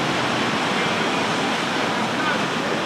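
Atlantic Ocean waves breaking on a beach make a loud, steady roar of surf, close and continuous with no distinct breaks between waves.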